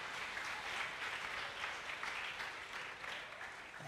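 A church congregation applauding at a service, steady dense clapping sustained for several seconds, fairly faint and heard alone.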